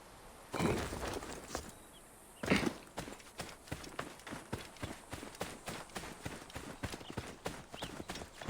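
Horse hooves clip-clopping in the video game Assassin's Creed Origins, a steady rhythmic walking gait of many close, distinct hoof strikes, with a couple of louder thuds near the start.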